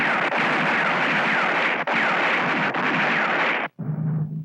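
Sustained automatic gunfire from an action movie, loud and continuous with two brief breaks, cutting off abruptly near the end to a quieter tail.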